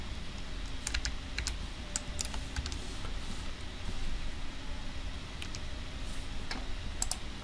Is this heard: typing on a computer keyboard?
yes